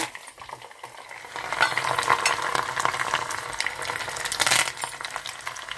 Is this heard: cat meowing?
no